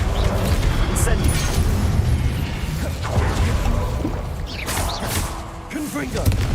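Incendio fire spell cast in the video game Hogwarts Legacy, a loud dense roar of flame and crackle with thumping impacts and mechanical clatter, continuous and full for the whole stretch.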